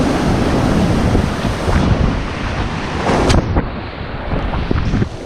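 Ocean surf rolls continuously onto a beach in Panama, with loud breaking waves up close and rushing wash, mixed with heavy wind buffeting on the microphone.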